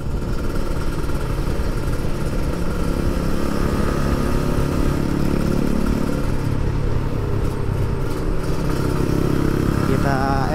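A Yamaha Scorpio Z motorcycle rides along a road at midnight, its mid-pitched engine droning steadily and loudly throughout, with wind and traffic noise and some faint voices underneath.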